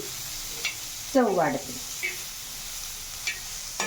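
Bitter gourd frying dry on a tawa with green chillies and coriander is stirred, giving a brief scraping burst of sizzle and clatter amid quieter crackling, with a short spoken remark nearby.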